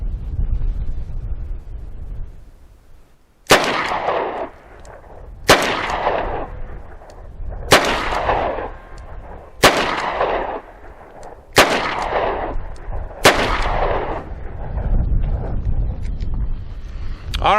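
Six sharp .38 Special revolver shots fired from a Taurus Model 856 and a Rock Island Model 206, spaced about two seconds apart, each a loud crack with a ringing tail over steady outdoor wind.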